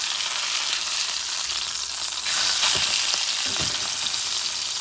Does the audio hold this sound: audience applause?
no